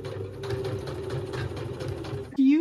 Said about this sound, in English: I sew the first line along the edge here, and the second line along the edge of the foot.